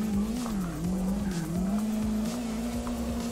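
A car drifting in CarX Drift Racer, with a sustained wavering engine drone and tire squeal, loud and steady throughout.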